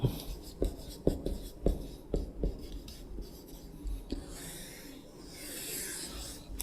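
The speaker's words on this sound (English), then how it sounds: "So let me write that out." A pen writes a word out on a surface, making a series of quick taps and scratchy strokes close up, followed by a softer, longer rubbing stretch near the end.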